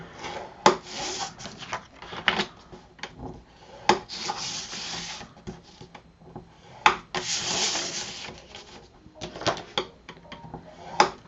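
Cardstock flaps for a Christmas flipbook album are scored at half-inch marks on a scoring board, giving repeated sharp taps and scraping rubs with quiet gaps between strokes, close by and without talk.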